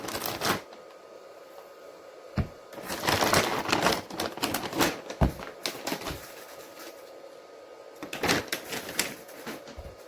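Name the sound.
opening plastic bags of RC car tires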